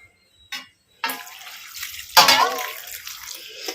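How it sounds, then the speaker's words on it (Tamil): Water poured into a pan of sliced bitter gourd on a kitchen stove, a few brief splashes then a steady pouring gush that swells and fades, close and alone. "அடுப்புல வச்சுட்டு கொஞ்சமா லைட்டா வந்து தண்ணியை ஊத்தி நம்ம வேக வச்சுக்க"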